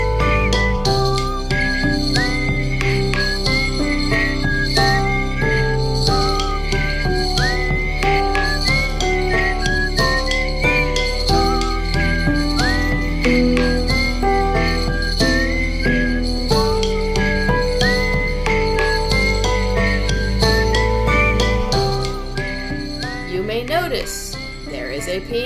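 Outer Wilds soundtrack from the video game, with all its instruments layered together including harmonica, plays as a dense, steady, loud ensemble with sustained melodic lines throughout, fading slightly near the end.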